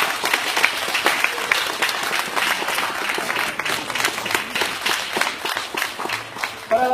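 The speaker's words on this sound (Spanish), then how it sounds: "Un aplauso para nuestro ponente." Crowd applause at a high school's 50th anniversary ceremony in Santiago Pinotepa Nacional, steady dense clapping that fills the whole stretch at close range with no talk over it.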